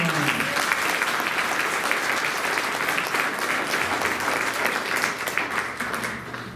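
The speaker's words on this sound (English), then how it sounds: "So let's give a round of applause to everyone." An audience at a school class event gives a sustained round of applause, a dense and steady wash of many hands clapping that holds for several seconds and tapers slightly at the end.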